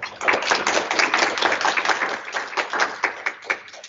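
An audience applauds to welcome a speaker at a heart-health talk on heart emergencies: a dense burst of many hands clapping, steady and lively throughout, with no voices over it.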